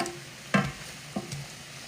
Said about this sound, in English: And then we're going to saute up our onions with some minced garlic.